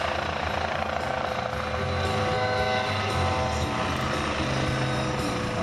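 A helicopter flies a display at the NATO Days air show in Mošnov, Czech Republic, its rotor and engine making a steady, loud, continuous roar that holds at an even level throughout.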